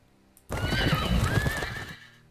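A horse in the Fallen Enchantress: Legendary Heroes strategy game neighs loudly in a long, wavering whinny over clip-clopping hooves, starting abruptly from near silence and fading out after about a second and a half.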